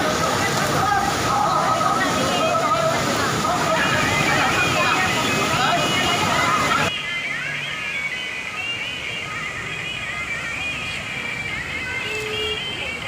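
Continuous roar of Kempty Falls waterfall near Mussoorie, loud and steady, under someone narrating; the rush drops noticeably quieter partway through while his talking continues.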